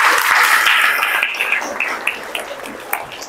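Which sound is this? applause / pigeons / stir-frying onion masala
applause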